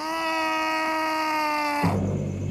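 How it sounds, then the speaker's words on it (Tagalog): In a horror tale, a loud, drawn-out scream holds one steady, piercing pitch for nearly two seconds, then cuts off abruptly into lower, rougher noise. "Habang nagtatalo kami ni Mel, bigla kaming nakarinig ng malakas na sigaw."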